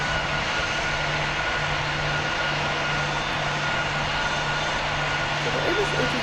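Airbus A320 jet engines roar steadily during a landing in the PTFS video game. The loud, continuous engine drone plays throughout as a person talks over it.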